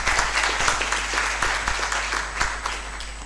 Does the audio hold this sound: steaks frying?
no